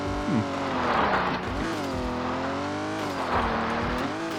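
A race car engine in an old-school rally video game roars steadily with revving pitch changes, loud and close, the whine rising and falling as it accelerates.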